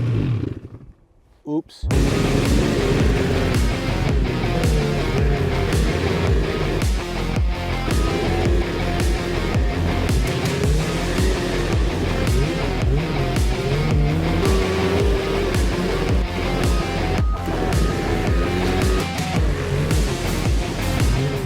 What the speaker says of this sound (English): let me give my new snowmobile a try.